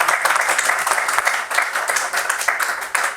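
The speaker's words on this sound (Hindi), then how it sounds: "तालियां हो जाए इस पर।" Loud, dense applause from a small audience at a chiropractic training closing ceremony, a close, continuous wash of hand claps with uneven surges in intensity.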